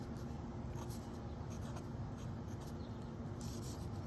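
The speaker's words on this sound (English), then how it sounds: "right now, this is a broad nib that I'm writing with" Faint, steady scratching of a broad steel-nibbed fountain pen moving across paper, close up and quiet, with no voices.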